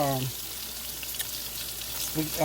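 Meatballs frying in a pan give a steady, moderately close sizzle with light stirring. Short bits of voice are heard at the start and end.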